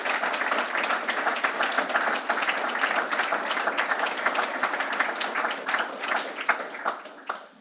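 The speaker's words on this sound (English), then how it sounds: "So can I have a round of applause for everybody?" A summit audience at a closing address gives a full round of applause, many hands clapping densely and close together, sustained for several seconds and thinning slightly near the end.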